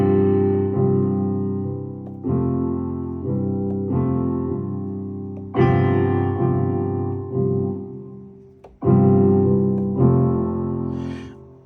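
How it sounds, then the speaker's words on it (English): Chords from a Launchkey 37 Mk4 MIDI controller played with a strum-like roll, several rolled chords in succession, each swelling in and sustaining, loud and close with no talking. "Put the roll on, it's like a strumming."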